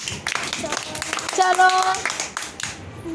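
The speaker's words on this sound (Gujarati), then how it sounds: "તાળી પાડવાની તો" Schoolchildren in a classroom clap their hands together in a brief scattered burst of claps, mixed with a voice and a teacher speaking over them.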